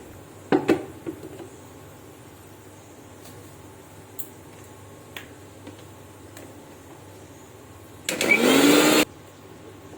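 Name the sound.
blender grinding ginger, garlic, onion and chilli paste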